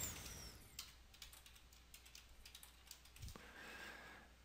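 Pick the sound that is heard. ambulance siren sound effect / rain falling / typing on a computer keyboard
typing on a computer keyboard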